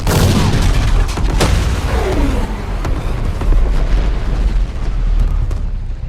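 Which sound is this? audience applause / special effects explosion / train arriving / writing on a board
special effects explosion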